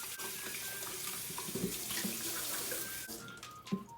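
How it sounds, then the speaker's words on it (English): Cold water runs from a kitchen tap into a sink, a steady broadband rush with small splashing variations, close and alone with no talk. "we gonna turn on cold water"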